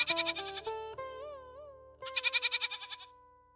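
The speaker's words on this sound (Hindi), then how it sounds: "ये आवाज, बकरा?" A goat bleats loudly and close in a cartoon story, a string of quavering calls that rise and fall, then a second bleat after a short gap.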